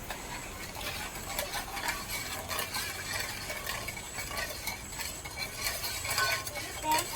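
A cup of sugar is stirred into a mixture, making a continuous gritty, ratcheting scrape with faint clicks, steady and moderately quiet throughout.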